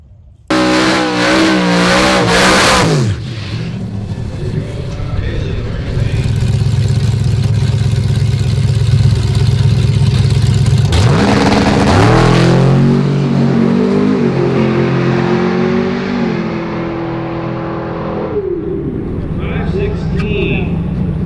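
Race cars revving and accelerating hard at a drag strip, engine roar swelling, fading and building again as cars launch, loud and fairly near, with people talking over it.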